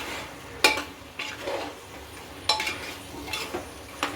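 A spoon scrapes and stirs through vegetable biryani in a pressure cooker, in a handful of spaced clinking strokes over a faint background hiss.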